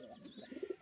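A pigeon near an indoor nesting spot gives a soft, faint cooing in short, throaty pulses that quicken toward the end.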